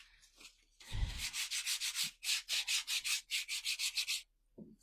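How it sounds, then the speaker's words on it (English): Paint being sanded off a small wooden block by hand, a close, rhythmic rasp of steady back-and-forth strokes, about a dozen in a row, loud and alone. "Now on the Frightful, I'm going to do the same thing. I'm going to sand it off."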